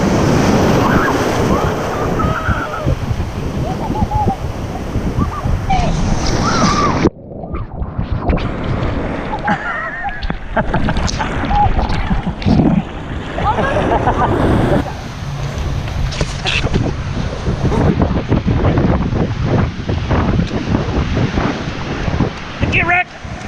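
Rough ocean surf crashes and churns on a beach in a continuous loud roar with heavy wind buffeting the microphone. People talk and shout over the surging water now and then.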